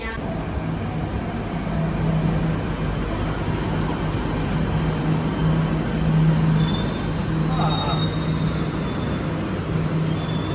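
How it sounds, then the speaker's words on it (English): A subway train in Beijing arrives, rumbling past up close with a steady roar of wheels on rails, and high metallic squeals come in partway through. "Here comes the train."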